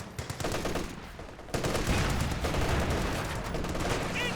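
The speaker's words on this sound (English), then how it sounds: "Sounds like one of these guys has got M1919 as well" M1919 machine gun fire in a Company of Heroes 2 match, sustained rapid bursts that thicken after the first second and a half into a dense, continuous battlefield roar with overlapping shots, no speech.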